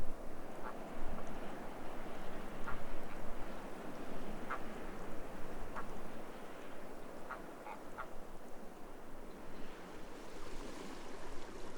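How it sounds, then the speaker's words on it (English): American flamingos at brackish lava pools in the Galápagos give scattered short honking calls over a steady wash of surf-like background noise, with no talking. "Small groups of American flamingos come here often, filtering food from the mud and water."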